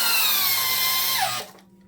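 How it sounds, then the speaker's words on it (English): A Makita 6406 corded drill drives a 3-inch deck screw, a loud close whine holding steady, then dropping in pitch as the motor bogs near the end and cutting off. "let's see if it has enough power to throw down one of these 3-inch deck screws"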